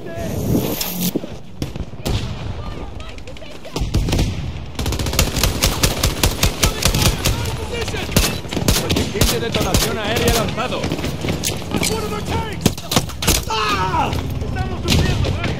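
Rapid automatic gunfire in the Battlefield 2042 video game on Xbox Series X, loud dense bursts and repeated shots running almost continuously, with someone talking over the shooting.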